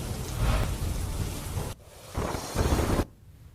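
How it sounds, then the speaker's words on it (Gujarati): Heavy monsoon rain pours in a dense, roaring wash over flooded Porbandar, Gujarat, cutting out abruptly and returning in loud bursts before dropping away. "પોરબંદરમાં અનરાધાર વરસાદ જોવા મળી રહ્યો છે"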